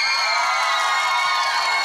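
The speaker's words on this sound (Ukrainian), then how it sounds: "ваші оплески" Outdoor karaoke crowd on a town square bursting into loud cheering and shouting with some clapping, children's voices prominent, a dense sustained roar for the brief moment.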